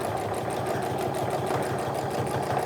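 A sewing machine stitches the corner of a tote bag, running at a steady, even clatter with a fast, regular mechanical rhythm and a faint hum, alone and without pauses.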